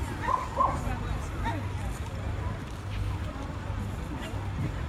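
A police dog in a park in Gloucester barks and yips a few times near the start, then quieter whimpers and panting continue over steady outdoor background noise and distant voices.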